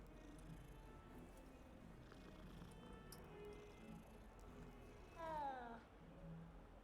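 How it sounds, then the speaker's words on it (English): A cat in the video game Hogwarts Legacy gives a single rising meow near the end, clear above a low, steady background hum. "Little kitty."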